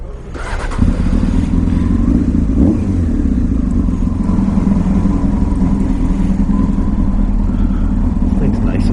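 Honda F4 sport motorcycle engine starting to pull away on a cold winter day, a loud steady rumble that rises within the first second and holds throughout, with someone speaking over it.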